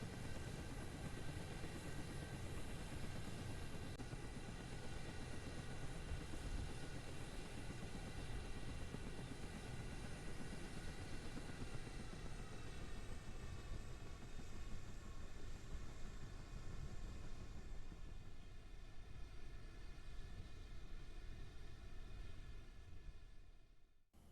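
An aircraft in Kerbal Space Program flying toward a runway, a steady droning engine roar with tonal whine that holds loud and unbroken, then dims toward the end before cutting off.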